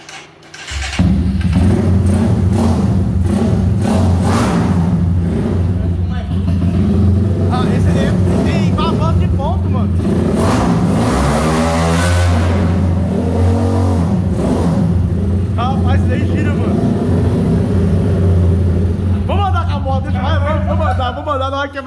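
A modified 225cc Honda Titan motorcycle engine fires up and is revved hard in repeated loud bursts, close by and sustained, with voices talking over it.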